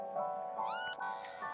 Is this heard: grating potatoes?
no